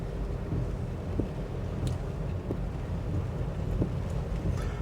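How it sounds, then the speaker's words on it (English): Hurricane wind roars steadily in an outdoor square, a dense, continuous rumble of buffeting near the microphone with faint scattered taps and rattles and no talking. "Trying to get this up as close as I can so you can see the wind blowing across it"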